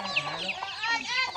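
Chickens cluck in a rural village in Laos, with several short, close, bright clucks and squawks in quick succession, with no speech.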